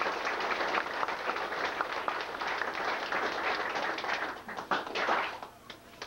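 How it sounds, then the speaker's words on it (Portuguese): A crowd at a family descendants' gathering in Brazil applauds, dense continuous clapping from many hands, fairly loud and sustained before thinning out near the end with a few scattered claps. "uma salva de palmas para eles"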